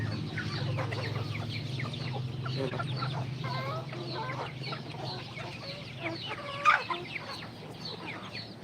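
Several chickens, including a rooster and a white hen, cluck softly and repeatedly nearby, with an occasional louder squawk, over a low steady background hum.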